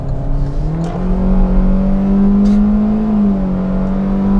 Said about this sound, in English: Just foot to the floor everywhere you go, making a racket, right?